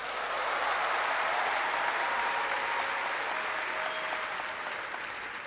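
A church congregation claps in sustained, dense applause, loud and even before easing slightly toward the end, with no talking over it.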